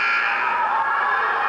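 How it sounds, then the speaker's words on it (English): The timekeeper's buzzer sounds at a college basketball game between Northern and Southern, a single sustained electronic tone held steadily for over a second amid arena noise. "the timekeeper, our good friend Lowell Leitzer, is hitting the buzzer to let the officials know it is a 1-and-1"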